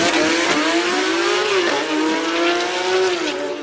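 Race car engine at a Cape Town hill climb event, loud and sustained, pitch rising and falling through gear changes as it accelerates up the course, with a brief squeal of tires.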